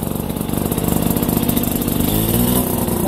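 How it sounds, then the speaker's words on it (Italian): Small quirky mopeds rev and idle in a race paddock about an hour before the start of the Monferraglia ride in Gressan, a close, steady buzzing engine drone with slight rises in pitch throughout. "Motorini bizzarri, guardate questo."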